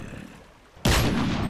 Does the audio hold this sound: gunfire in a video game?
yes